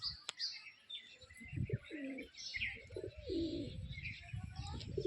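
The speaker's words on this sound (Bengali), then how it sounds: "সব রকম পায়রা আছে আমার।" Pigeons on a rooftop coo and chirp in soft, repeated calls, with a few higher tweets mixed in, close and steady throughout with no voices.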